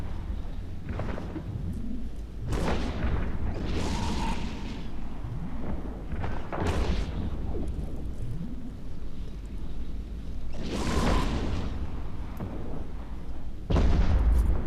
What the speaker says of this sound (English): the Mauler has been destroyed